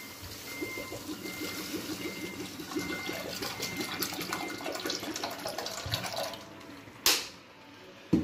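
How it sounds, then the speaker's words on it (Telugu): Water pours from a tap onto a small glass of washed toor dal in a kitchen pot, a steady running splash with no talk, broken near the end by a couple of sharp clatters. "ఇందులో కొన్ని వాటర్ వేసుకున్నాను"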